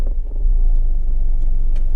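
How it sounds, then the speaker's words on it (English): A 1990 Honda Acty Van Street G with manual gearbox starts up, a brief crank settling into a steady, close, low engine rumble with no talk. "So, starting the car back"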